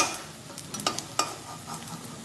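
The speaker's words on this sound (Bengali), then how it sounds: "এখন আমি এগুলো আস্তে আস্তে উল্টে দেবো, দিয়ে দু পিঠ ভালো করে ভেজে নেব" Stuffed ash gourd leaf fritters frying in oil in a pan, a soft steady sizzle broken by a few sharp scraping clicks from a turning utensil, close and quiet, no talk.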